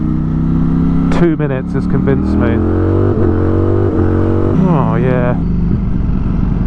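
A Ducati V4S motorcycle engine climbs through the gears on a mountain road, its rising pitch dropping back at each shift, loud and close, while a rider talks over it.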